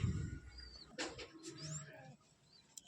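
Giribaz pigeons making soft low cooing calls, fairly close but quiet, with a few thin chirps and light rustling around them.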